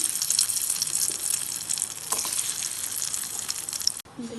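Raisins frying in hot ghee in a pan for rice ball payasam give off a bright, steady crackling sizzle that runs close and continuous, then cuts off abruptly near the end. No voices.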